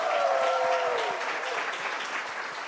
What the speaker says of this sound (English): Please give a big round of applause to Aiz Hussain.